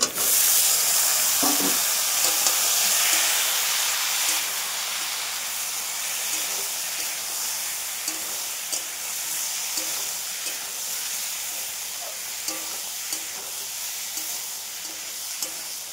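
Potatoes fry in spiced masala, with a loud, hissing sizzle at first that settles into a steady crackle, and occasional light ticks of stirring in the pan.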